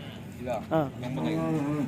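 An HF cow mooing at the Sunday Chintamani cattle market, a short, close, low bellowing call rising and holding, with faint market murmur behind.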